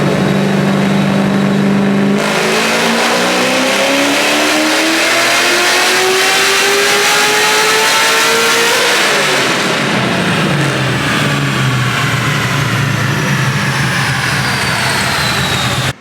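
A Smeding 441 cubic-inch LS3 V8 car engine on a chassis dyno during timing tuning, sweeping up through the revs in one long, loud pull before dropping back to a lower drone.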